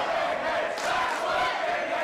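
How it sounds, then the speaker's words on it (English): A packed wrestling crowd at the Vermont in Los Angeles, evenly split between the competitors, roars and cheers loudly and continuously throughout, a dense wall of voices with no single speaker standing out. "Listen to this crowd, though."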